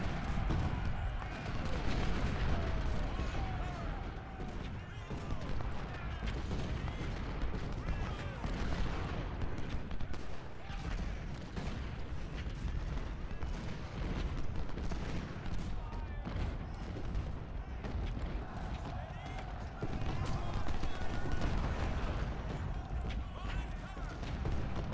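Artillery and musket gunfire in Ultimate General: Civil War, a dense continuous battle din of booms and crackling volleys rolling on throughout, with distant overlapping shots and no clear pauses.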